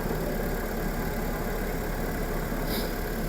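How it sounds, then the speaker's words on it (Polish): A red Honda Civic 1.8 running on LPG idles with a steady, even engine drone, close by with no voices. "Samochód się teraz przełączył na gaz, słychać"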